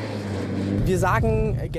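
A VW Golf R with a 2-liter turbo four-cylinder engine drives on ice, its steady engine drone running throughout while a person talks over it.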